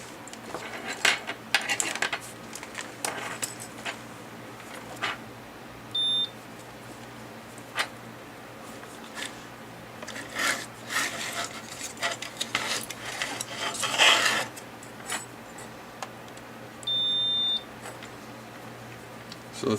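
A continuity tester checks a fuse from a Samsung UN40EH5300F TV, giving two short, steady electronic beeps among scattered metallic clicks and handling clatter of probes and tools, no talking.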